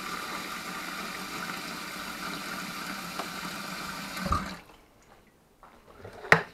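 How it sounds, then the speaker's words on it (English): Tap water runs steadily into a pot of soaking oatmeal in a home kitchen, a continuous close rush that cuts off after about four seconds, followed by near silence and a small clunk. "Always run the water back in that so it keeps softened up till I get ready to wash it."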